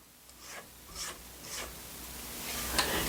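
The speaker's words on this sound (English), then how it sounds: "I'm going to scrape down the sides of my bowl once more." A spatula scrapes down the sides of a mixing bowl of cake batter, several soft close rubbing strokes in a quiet room, growing slightly louder toward the end.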